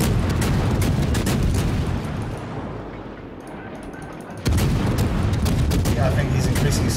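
Atlanta cruiser guns firing in a World of Warships ranked battle, heavy repeated booms and rumbling salvos, briefly quieter in the middle before a fresh loud burst, with someone talking throughout.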